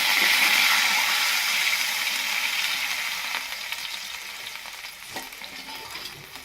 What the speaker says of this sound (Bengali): এরপরে এর মধ্যে দিয়ে দিচ্ছি আমসিদ্ধর জলটা